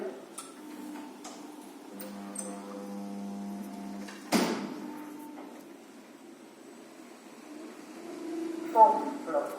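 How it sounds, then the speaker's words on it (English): In a Newcastle lift, ticking and beeping lead into a sudden heavy clunk midway as the doors shut, followed by a steady hum and a second, smaller knock near the end. "Door closed."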